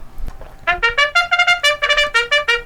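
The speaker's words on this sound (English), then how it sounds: "That sound is the 30-second warning." A crokinole tournament timer sounds its 30-second warning as a bright electronic melody of quick, evenly spaced tonal beeps, loud and clear with no talking over it.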